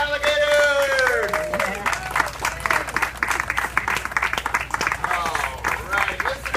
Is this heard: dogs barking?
no